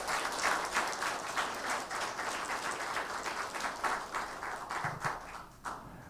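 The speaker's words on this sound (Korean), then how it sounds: "예, 큰 박수 한번 보내주세요." Congregation applauding in a church during a Sunday worship service, a dense, steady wash of many hands clapping at moderate distance, continuing for several seconds and thinning slightly toward the end without speech.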